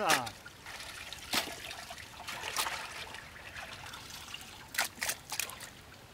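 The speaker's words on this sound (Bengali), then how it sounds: "আমরা মুরগিটা সুন্দর করে ধুয়ে নেবো।" Raw chicken is washed in water, giving a soft, steady trickle broken by several brief, close splashes and sloshes at uneven intervals.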